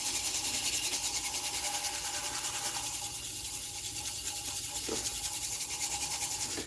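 Elm, an open-pored wood, is sanded on a lathe with sandpaper and liquid wax, producing a steady close rubbing hiss over the spinning lathe's continuous drone, with one small knock midway.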